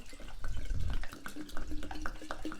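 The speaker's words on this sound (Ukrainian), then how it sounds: "Заливаємо холодною водою можна джерела." Cold spring water pours into a container to make homemade kvass, a close, splashing stream with trickling and dripping.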